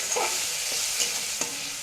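Ground spice paste sizzles in oil with a splash of water as it is stirred, giving a steady hiss broken by a few soft spoon scrapes, close up and without speech.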